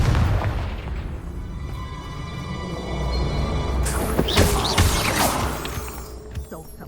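A Confringo blasting spell bursts in Hogwarts Legacy, a loud explosive boom followed by crackling debris and sharp magical flashes over a rumbling game soundscape, with no talk.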